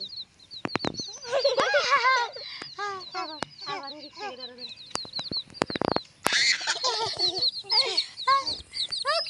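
Chickens at a new chicken farm cluck and squawk in quick, overlapping bursts, close by, with sharp wing flaps and scuffles breaking in now and then.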